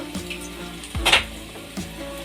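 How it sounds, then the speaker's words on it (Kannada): Onion, garlic and curry leaves frying in hot oil for a homemade fish curry, a soft steady sizzle with a brief brighter hiss and faint clinks of a utensil against the pan. "ಎಣ್ಣೆ ಕಾದಿದೆ ಎಣ್ಣೆಗೆ ಈರುಳ್ಳಿ ಬೆಳ್ಳುಳ್ಳಿ ಕರ್ಬೇವಿನ ಸೊಪ್ಪು"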